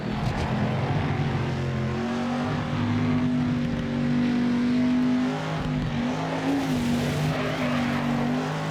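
Aston Martin Valkyrie racing at Spa in a driving game, a loud, continuous engine howl whose pitch climbs and shifts through gear changes, steady and close throughout.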